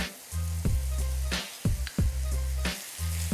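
Minced meat browns in a pan, seasoned with salt, black pepper and chili flakes, throwing off a loud, close sizzle with a few sharp scraping strokes as it is stirred.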